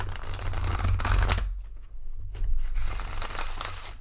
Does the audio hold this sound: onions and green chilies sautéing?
no